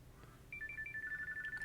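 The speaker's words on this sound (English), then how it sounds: "So that's the current ringtone." Ringtone playing on a Samsung Galaxy Watch Ultra smartwatch: a clear, bright electronic melody of short repeating beeping tones, starting after a brief quiet pause and sounding close and moderately loud.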